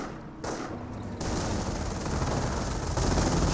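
MG42 machine gun firing in the Company of Heroes game, a dense continuous roar of rapid automatic bursts that swells louder partway through, with battle noise and no speech.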